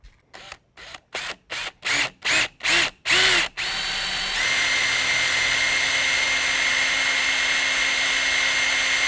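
A power drill bores through a vehicle hood into a scrap aluminum sheet beneath. Short bursts of drilling come in a quick series, then it runs into a steady high-pitched whine, loud and close.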